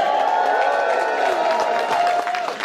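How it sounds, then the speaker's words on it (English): At Colossalcon East 2022 an anime convention crowd applauds and cheers ahead of a Q&A panel with Steve Blum and Beau Billingslea. The roar is loud and sustained, with whoops and a tonal voice-like cheer riding over the clapping. "Now keep that applause going"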